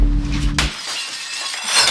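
A brick hits a double-pane window with a sharp, loud crash, then a bright spray of breaking glass that rings and trickles off for a second or so.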